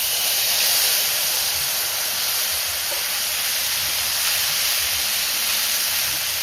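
Ground spice paste with ginger, cumin and tomato frying in hot oil for a spicy pabda fish curry, a steady loud broadband hiss of sizzling throughout with no talking.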